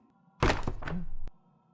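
In the Granny horror video game, a door unlocks and swings open: a sudden heavy thunk followed by a short creaking, scraping movement and a sharp final click, loud and close over a faint background hum.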